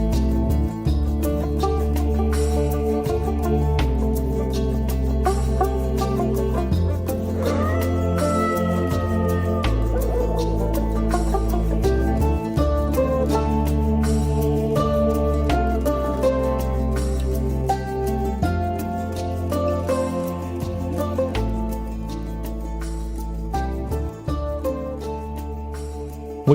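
A 2007 song, a full, continuous music track with steady sustained tones and a rhythmic low pulse throughout, loud and without speech.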